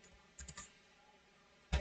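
Quiet computer keyboard keystrokes, a short cluster of soft clicks followed by a pause and one more louder tap, close and faint.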